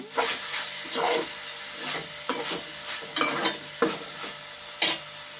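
Gongura leaves frying in a pan on a gas stove, a steady sizzle and hiss broken by repeated scraping stirs of a spoon, close and without speech.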